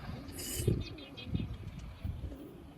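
Several pigeons kept for a mosque coo in low, soft, repeated bursts close by, with a brief higher chirp at the start and light background noise.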